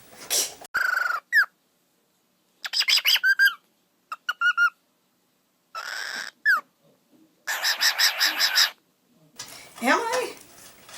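A pet bird calls loudly from upstairs in a house during a computer build, repeating strident whistled squawks and chirps in irregular bursts separated by brief silences.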